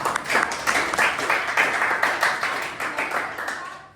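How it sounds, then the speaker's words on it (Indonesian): A room of people clapping together after a group presentation, a brisk rolling burst of applause lasting a few seconds before tapering off. "Tepuk tangan untuk kelompok 2"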